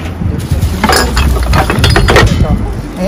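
Glasses clink and rattle repeatedly as hands dig through a trash bin in Japan, sharp close clatters with voices talking over them.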